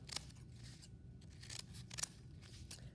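Scissors snip through newspaper in several quick, crisp cuts, close by and fairly quiet, with no talking.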